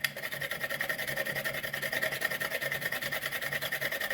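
Whole nutmeg is grated for a Jamaican Christmas fruit cake, a close, steady rasping scrape in quick back-and-forth strokes with no talk over it.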